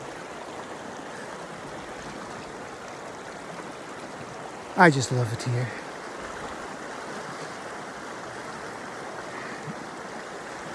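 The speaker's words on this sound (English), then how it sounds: "This is a beautiful spot to just sit here for a while near this beautiful creek." Steady rushing water of a creek flows continuously and close by, with a voice speaking briefly over it midway.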